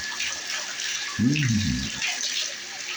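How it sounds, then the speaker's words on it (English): Water runs from a bathtub faucet with a leak problem, a steady hiss of flow joined midway by a brief low rumbling gurgle in the pipes. "let's get some water going and see what's going on"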